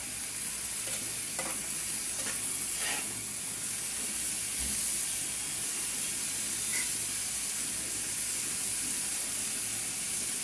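Fish roe boils with turmeric in a pan, a continuous close hiss and bubbling sizzle with a few faint clinks of a utensil, steady and unbroken.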